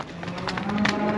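Cattle on a farm low in a brief, close moo that swells slightly toward the end over faint background noise.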